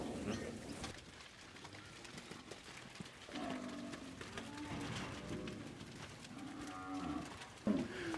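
Cattle moo repeatedly during weaning on a farm, several drawn-out calls near and farther off, with birds cooing in the background.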